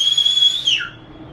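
A single loud, high-pitched human whistle holds a steady note, then slides downward and cuts off, aboard a cruise ship leaving Cozumel.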